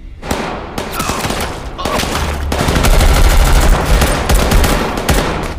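Sustained gunfight between players and armed staff in a stairwell and room in the film Squid Game 2, with dense rapid bursts of automatic gunfire and loud overlapping shots echoing continuously at close range.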